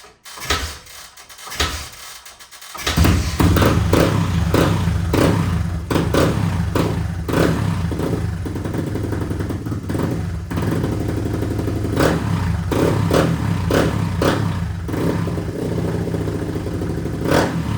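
A rebuilt Honda XR100R dirt bike engine starts after a few quiet seconds and then runs steadily and loudly nearby. Its rattling idle is broken by repeated rhythmic clattering pulses and occasional revs.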